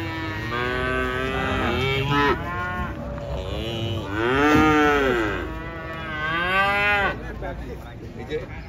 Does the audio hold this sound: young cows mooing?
yes